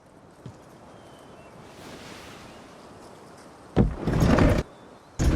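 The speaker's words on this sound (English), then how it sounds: "Open the doors." Heavy doors opening in Dishonored 2: a low rumble swells, then a loud burst of grinding and rushing noise, and another sharp onset right at the end over quiet ambience.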